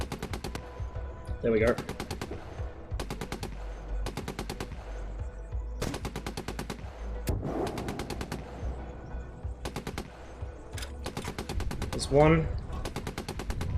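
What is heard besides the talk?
machine gun fire from the video game GHPC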